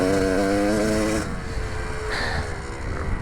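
A 2001 Gas Gas dirt bike engine running rich, loud and close, a rasping two-stroke drone that drops from a high rev to a lower, rougher idle partway through.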